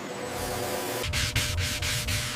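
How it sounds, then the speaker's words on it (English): Steady broadband grinding hum of a robotic sander working wood, with a series of sharp rhythmic bursts after the first second, close and fairly loud. "Robots handle repetitive sanding, delivering accuracy, speed, and perfect leveling."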